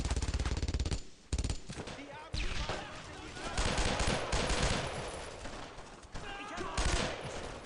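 Gunfire from the World War II video game Brothers in Arms: Road to Hill 30, dense bursts of rifle and machine-gun shots rattling almost nonstop, loud and close, with soldiers' shouted voices mixed into the battle.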